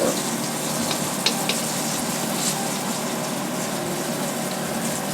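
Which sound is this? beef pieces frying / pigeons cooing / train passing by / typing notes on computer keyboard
beef pieces frying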